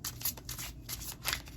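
Tarot cards being shuffled by hand, a run of papery riffling bursts close to the mic with short pauses between them and a low steady background hum.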